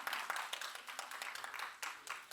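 An audience at a press launch event for the SBS drama Our Movie claps to welcome actress Jeon Yeo-been, producing a faint, distant patter of applause heard on its own.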